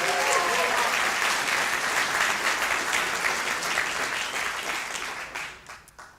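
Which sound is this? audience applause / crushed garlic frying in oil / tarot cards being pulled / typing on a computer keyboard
audience applause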